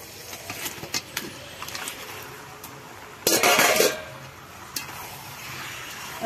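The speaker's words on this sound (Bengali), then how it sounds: "ভালো করে মাংস আর মশলাকে একসঙ্গে মিক্স করে দিচ্ছি" Meat goes into a pot of fully cooked-down spice masala for a spicy braise, with intermittent metal spoon scrapes and clanks against the pot and one louder burst of scraping midway, over a low steady background hum.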